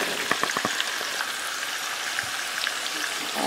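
Onions frying in a pan for a garden egg stew, a steady close sizzle with scattered pops and crackles spread throughout, and no talking.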